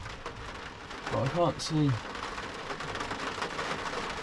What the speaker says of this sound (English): I might start now because that is quite heavy rain.